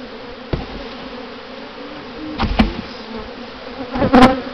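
Honeybees buzz steadily while a hive in Manhattan Beach is opened and handled, a close, continuous hum broken by a few louder bursts of handling noise, with no talking.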